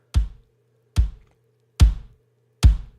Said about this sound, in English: And then I did blend in our kick sample. This is just more of a roomy sample.